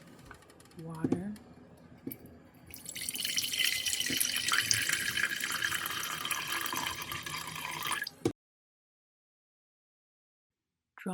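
A tap runs steadily for several seconds with a broad rushing hiss of water, then shuts off abruptly into silence; a few light clinks come before it starts.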